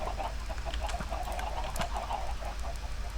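Chickens in Minecraft cluck in soft, scattered bursts over a steady low background hum, fairly quiet and repeated throughout.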